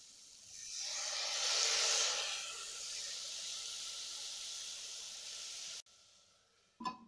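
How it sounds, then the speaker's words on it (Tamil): Cabbage steaming in a pan after a sprinkle of water, for a Tamil-style cabbage curry: a steady close hiss that swells in the first two seconds, then holds evenly before cutting off, with a brief clatter at the end. "இப்போ இதில் கொஞ்சமாக தண்ணி தெளிச்சுட்டு இந்த முட்டைக்கோஸை வேக வச்சுக்கலாம்."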